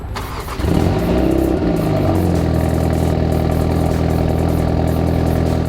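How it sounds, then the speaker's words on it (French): A BMW M135i engine cold-starts with a short cranking whir, then catches with a loud rev flare that settles into a steady, rumbling high idle, close and continuous with no talk. "La première chose, on va faire un cold start."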